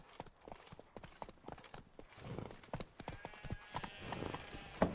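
Roach, the Witcher 3 horse, gallops with crisp, close hoofbeats in a rapid repeating pattern, quiet overall, with some rustling game ambience building toward the end.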